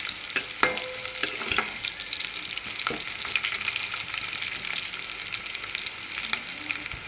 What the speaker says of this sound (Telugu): కరివేపాకు చూసారు కదా దా తాలింపు దోరగా ఇలా వేయించుకోవాలి మాడిపోకుండా కలబెట్టుకుంటూ ఉండాలి